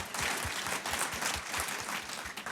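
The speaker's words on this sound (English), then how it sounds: "that big round of applause" Conference audience applause at DLD26, a crowd clapping in a full, lively burst with some louder close claps standing out, carrying on for a couple of seconds with no talk.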